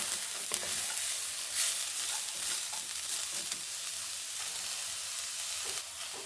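Vegetables stirred in a hot pan for chicken vegetable soup, a steady close sizzle with soft scraping strokes throughout and no voices.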